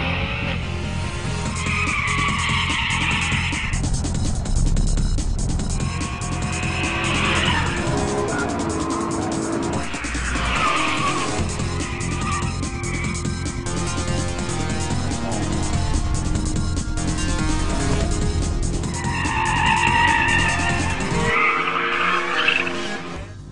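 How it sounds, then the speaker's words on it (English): A 2008 BMW M3 with a 414-horsepower aluminum V8 driving the rear wheels, pushed hard around the Laguna Seca race track: loud, continuous engine roar with rising and falling revs and tire squeal through corners, close to the microphone. "got a 414 horsepower lightweight aluminum V8 with F1 technology in it, drives the rear wheels as God intended"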